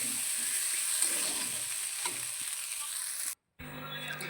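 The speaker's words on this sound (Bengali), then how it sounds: "এখানে বৈতাল, আলু, মটরশুঁটি, ফুলকপি সব কিছু দিয়ে সবজিটা বানানো হচ্ছে" A vegetable curry of eggplant, potato, peas and cauliflower cooks in a pan with a steady, loud sizzle and soft stirring scrapes. The sizzle cuts out for a moment, then resumes.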